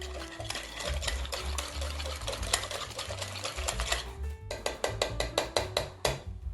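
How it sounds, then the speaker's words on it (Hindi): Cheesecake batter being mixed in a bowl with an electric mixer, a steady close whirring with rapid rhythmic clicking and rattling against the bowl, shifting pitch partway through. "इसको मिक्स कर लेना है।"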